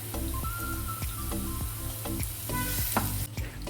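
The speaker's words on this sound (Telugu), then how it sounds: "ఒక రెండు మూడు నిమిషాలు పెట్టి చూడండి కొద్దిగా ఫ్రై కావాలి కదా" Bitter gourd frying in a pan, a steady close sizzle broken by regular scraping strokes as the slices are stirred about every half second, with no voices.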